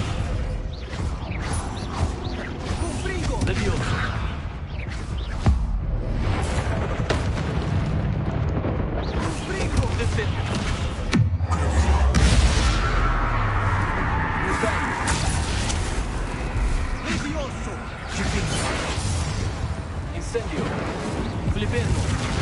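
Spells are cast with explosive blasts in the Hogwarts Legacy video game: continuous rumbling booms, bursts and crackling impacts build into a roaring eruption-like wash, with spoken voices heard among the explosions.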